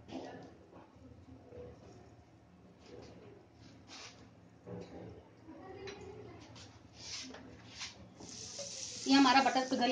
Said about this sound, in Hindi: ये हमारा बटर पिघल गया है।